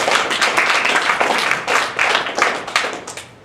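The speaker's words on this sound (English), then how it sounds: "So I'd like you to give them a round of applause." Audience at a faculty fellows conference keynote gives a loud, dense round of applause, steady clapping from many hands that tapers off near the end.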